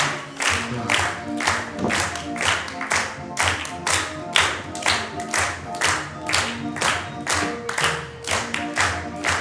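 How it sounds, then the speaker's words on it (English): A live evening circus-style show audience claps along in a steady rhythmic beat, many hands together, loud and continuous with music underneath and a faint crowd murmur. "It's beautiful clapping."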